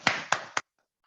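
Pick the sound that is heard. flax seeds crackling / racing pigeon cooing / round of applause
round of applause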